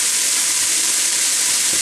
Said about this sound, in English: So I'm just going to keep frying these now until these sort of just start to heat through a bit